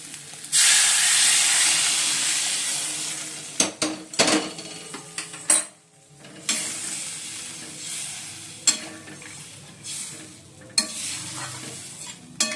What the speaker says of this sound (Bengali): গরম জল দিয়ে দিচ্ছি।